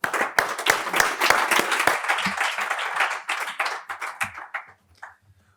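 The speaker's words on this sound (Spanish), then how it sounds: "Un aplauso, por favor." An audience at an award ceremony applauds as a prize is presented, brisk close clapping from several people that stays lively for a few seconds before tapering off to a few last claps and quiet.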